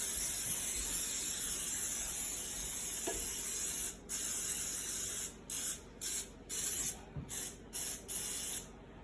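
Cooking spray hisses into a cake pan in a steady faint stream, then breaks into several short spurts toward the end.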